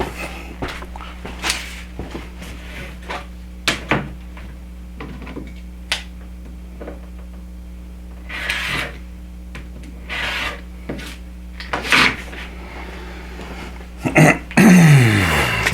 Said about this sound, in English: So I'm going to trim these, not the overlap section, but the edge where the printing stops.